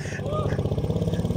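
A Voskhod motorcycle engine catches after a push start and runs in a loud, fast, uneven two-stroke putter close by, with a voice over it.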